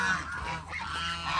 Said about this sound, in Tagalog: Yung mga gansa. Kumakain din ng gansa.